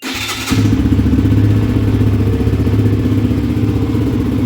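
A Peugeot PM 01 motorcycle engine cranks briefly, catches and settles into a loud, steady close idle with a throbbing low rumble.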